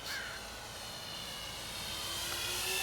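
An Avios Kingtwin 1700 twin-engine RC model plane flies a pass with gear down and half flaps, its steady motor whine rising slightly in pitch as it draws nearer, continuous and alone.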